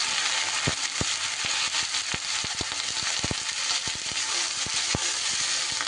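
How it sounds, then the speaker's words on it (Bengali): Spring onion stalks frying in a pan with lightly browned onions give off a loud, steady sizzle, broken by frequent sharp crackles and pops throughout. "পেঁয়াজ কলিটা দিয়ে বেশ এবার ভাজা ভাজা করে নিতে হবে"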